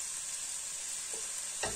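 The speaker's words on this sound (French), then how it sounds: "Voilà, on mélange bien." A winter vegetable ratatouille with sweet potato being stirred in a hot pot, giving a brief, steady hiss of sizzling with a soft clunk of the utensil near the end, no voices.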